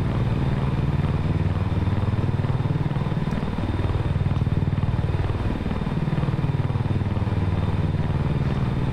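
VTOL aircraft in X-Plane 11 with a Humvee slung beneath, engine held at full idle around 55 percent: a steady, loud, close rotor-like drone with a throbbing low hum and pulsing beat throughout.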